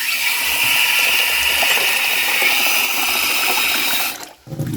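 Water pours steadily into a bowl of basmati rice for soaking, a bright, close, continuous splashing stream that stops abruptly near the end.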